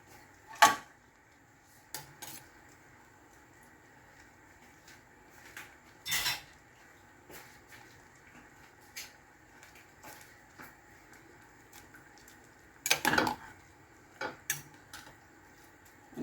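Knife taps against a cutting board as crab sticks are sliced for sotanghon noodles, several sharp clicks spaced irregularly with quiet gaps, close by and with no talking.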